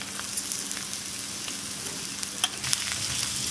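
Onion and chili sizzle in a hot pan for street-style egg bun masala, a steady close frying hiss with occasional light pops and stirring clicks, no talking.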